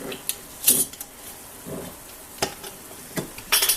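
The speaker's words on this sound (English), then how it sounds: "so our water's boiling" Water boils in a pot for cooking rice, with scattered pops and bubbling crackles at an irregular pace, fairly close and quiet.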